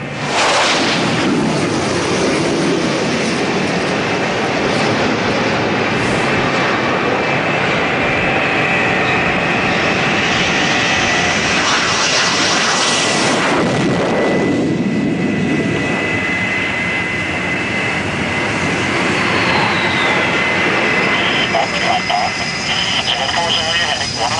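Carrier aircraft engines roar continuously during deck approaches, a loud sustained jet rumble and whine with a shifting pitch midway, steady throughout with no pauses.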